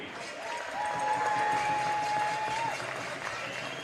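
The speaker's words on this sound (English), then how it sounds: "A round of applause for both these teams, please." A crowd at a youth league women's basketball grand final, Frankston versus Wyndham, applauds both teams with a steady roar of clapping. A long, shrill whistle sounds through the middle.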